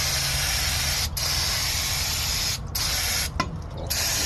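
Aerosol spray hisses loudly and steadily as brake cleaner is sprayed over the rear drum brake parts of a 1998 Chevy 3500 dually one-ton truck, broken by three short pauses.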